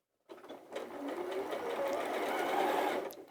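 A sewing machine runs a quarter-inch straight seam on a quilt, with a steady close whir that starts, builds and continues for about three seconds before stopping with a small clunk.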